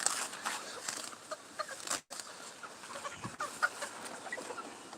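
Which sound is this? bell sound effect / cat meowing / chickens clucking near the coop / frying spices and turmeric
chickens clucking near the coop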